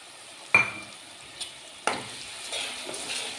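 Garlic chutney and spice paste dropped into a hot pan, giving two sharp sizzling bursts followed by a low, steady frying hiss with light stirring; close and moderately loud.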